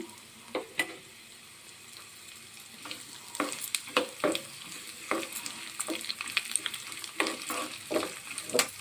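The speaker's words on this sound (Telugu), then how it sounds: "ఆయిల్లో మనం తీసుకున్న పప్పు దినుసులు ఆవాలు మినపప్పు జీలకర్ర ఎండుమిర్చి వెల్లుల్లి రేకలండి ఇవి మొత్తం వేసుకుందాం" Mustard seeds, urad dal, cumin, dried red chillies and garlic slices frying in hot oil, with a steady sizzle broken by sharp spluttering pops and stirring clatter, growing busier toward the end.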